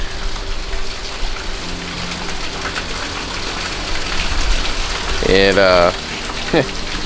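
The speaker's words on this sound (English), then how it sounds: "You can kind of see the rain blowing by." Steady rain and wind hiss throughout during Category 4 Hurricane Laura, with a louder gust-like surge near the end and a brief rising whine over it.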